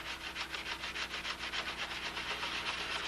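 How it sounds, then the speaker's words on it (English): Hand sanding with a small sanding block and 400 grit paper, a soft rhythmic back-and-forth rubbing with even strokes, close and fairly quiet. "I made up some brand new little sanding blocks with some nice 400 back paper."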